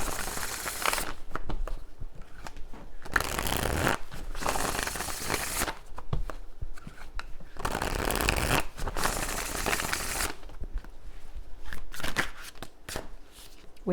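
A deck of manifestation cards being shuffled in repeated bursts of crisp riffling and rustling, close and fairly loud, with brief pauses between rounds and no talking.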